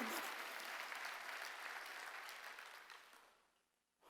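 Applause at a Korean church Sunday worship service, a steady wash of congregational clapping that holds for several seconds, then thins and fades to near silence at the end.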